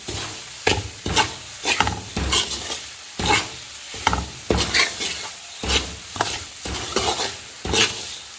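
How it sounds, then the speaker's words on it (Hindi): A spoon stirs semolina halwa frying in a pan, scraping rhythmically about once per second over a steady close sizzle, with light metallic clinks against the pan. "चम्मच जो है वो आपने इसमें कॉन्टीन्यूअस जो है वो चलाते जाना होता है"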